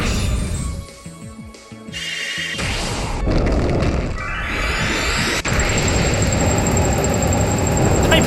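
Ice beam attack effect in Pokemon Sun: a loud, layered rush of booming impacts and rising crystalline shimmer that swells over several seconds, ending in a sustained bright, ringing wash with no voices.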